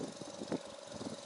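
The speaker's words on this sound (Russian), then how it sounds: "видимо, слабенький моторчик, Меркурий у них" A small, weak Mercury outboard motor on a boat runs steadily, a low rough mid-pitched engine drone with faint knocking pulses, heard at moderate distance with no talk.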